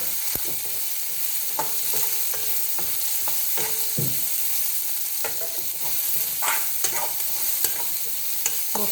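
Onion frying in hot oil for a green banana curry, a continuous bright sizzle punctuated by frequent spatula scrapes and clicks against the pan throughout.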